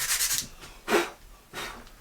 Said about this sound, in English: I'm going to be very careful about how deep I sand, at least with the coarse grit